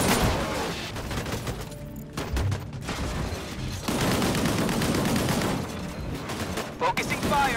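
Dense sci-fi gunfire from the shooter game Disintegration, with sustained bursts of weapon fire and booming impacts, loud and continuous across the clip, with brief dips and voices in the mix.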